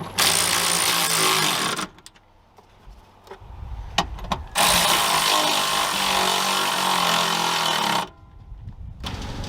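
Power tool whirring in two long, loud bursts as it drives bolts during coolant leak repair work on a 2008-2014 Ford F150, with quieter clicks and handling noises in between.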